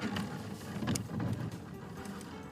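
Outboard engines on bass fishing boats starting up and running, a rough mechanical rumble with brief sputters and revs, moderately close and without talk.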